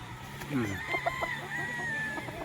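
Golden Boy straight comb gamecock rooster on a farm in Tanauan, Batangas, crowing once up close with a rising, drawn-out call, mixed with short clucks and some background farm noise.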